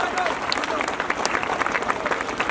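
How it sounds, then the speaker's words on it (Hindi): Crowd applause at a village felicitation ceremony, steady dense clapping from many people outdoors, with voices talking underneath throughout. "एक बार फिर जोर से तालियों के साथ स्वागत कीजिए।"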